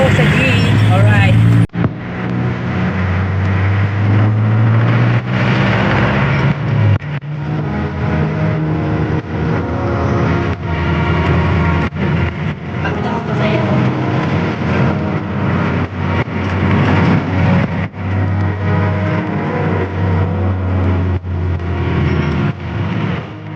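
A jeepney ride with a steady, loud engine drone and continuous road rumble that runs the whole time, and muffled voices mixed in.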